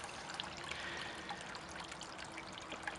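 Water trickling and draining out of a plastic storage tote used as a black soldier fly composter, a steady faint dribble with scattered small drips throughout.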